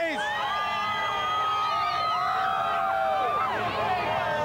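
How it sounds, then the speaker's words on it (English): A parade crowd cheers and shouts continuously, many voices whooping and screaming at high pitch, dense and close. "The crowd is going nuts."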